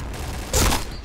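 A single short burst of gunfire in the shooter game Piercing Blow, loud and close over steady game background noise.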